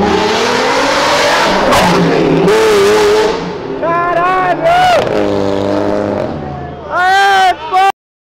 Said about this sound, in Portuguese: Do nada uma Diablo passando aqui, acelerando tudão